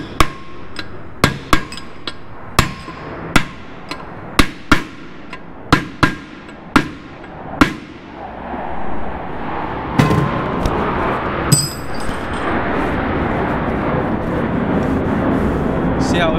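A brass tool is hammered onto a part of a Honda/Acura K-series transmission during assembly, giving about a dozen sharp, evenly spaced metallic strikes up close, followed by louder clattering handling noise.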